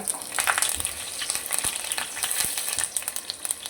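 Mustard seeds, a spoonful of cumin and curry leaves frying in hot oil in a kadhai, giving a steady close crackle and sizzle with a few sharp pops and stirring scrapes.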